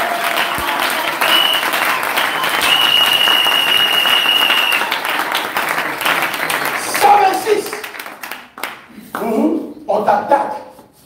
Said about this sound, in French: Alors acclamez cela.